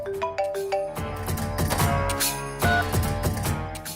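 A phone rings with a bright melodic tone, a repeating electronic tune running over a loud musical background with no talk.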